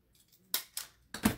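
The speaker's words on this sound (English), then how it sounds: "And I am going to staple it in" Three sharp mechanical clacks in quick succession, close and fairly loud, a stapler punching through paper, with quiet pauses between.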